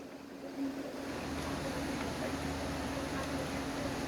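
Water pours fast from the spigot of a Vitapur water filter, a steady, loud rushing flow that starts after a brief quiet moment and continues unbroken to the end.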